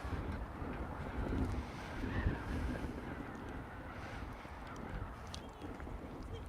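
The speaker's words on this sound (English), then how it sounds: "It's windy as hell out here today." Strong outdoor wind roars steadily across the microphone, a dense low rumble of buffeting gusts that swells and eases without pause.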